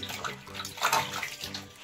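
Warm water splashes and pours while a cat is bathed, a close, soft sloshing with bubbling spikes, and faint voices murmur in the background.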